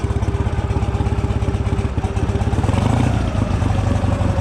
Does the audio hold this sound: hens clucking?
no